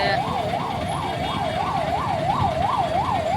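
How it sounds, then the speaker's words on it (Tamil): Ambulance siren wailing near a hospital in Trichy, a loud, close, rapidly rising and falling tone that repeats about nine times in quick succession over steady traffic rumble. "ஆம்புலன்ஸ் வந்துருச்சு"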